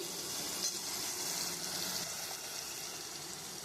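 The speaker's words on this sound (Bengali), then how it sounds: "এই মশলাটা একটু কষিয়ে নেব" Ground spices frying in a pan for a jackfruit-and-egg curry, giving a steady close sizzling hiss with faint stirring scrapes and no talk.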